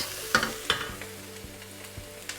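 A potato and chickpea chaat mixture is stirred in a pan with the heat off, bringing repeated spoon clicks and scrapes against the metal over a faint lingering sizzle.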